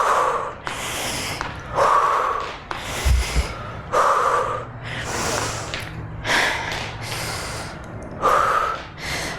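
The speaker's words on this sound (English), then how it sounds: "So I switched up my breathing here, exhaling down, inhaling up." During a quad-dominant home leg workout, heavy rhythmic breathing repeats close up, with forceful exhales and sharp inhales alternating in a steady cycle of about ten breaths. One brief low thump sounds midway.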